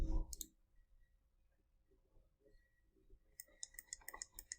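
Sharp mouse clicks while working in vehicle frame design software: a loud cluster at the start, then scattered soft clicks over a quiet room, ending in a quick run of crisp clicks.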